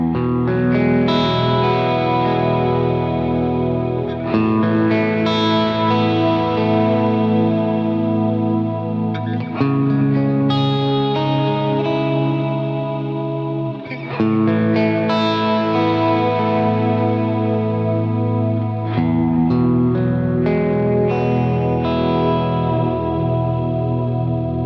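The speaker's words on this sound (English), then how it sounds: "one of the best sounding shimmer reverbs, which is Valhalla Shimmer" Guitar through a Valhalla Shimmer reverb plugin, sustained chords washing into a bright, pitch-shifted shimmering tail, with several swelling phrases that blur into each other, loud and alone.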